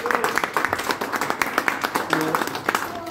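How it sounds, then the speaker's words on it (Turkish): Applause at a Turkish hunger strike solidarity gathering for Belgium: a short burst of several people's hand claps, close and steady, with voices speaking over it. "Alkışlıyorum"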